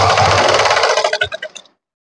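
A sewing machine stitches fabric with foam laid close beside the seam, a dense steady mechanical whir that breaks into several quick stuttering bursts before stopping abruptly.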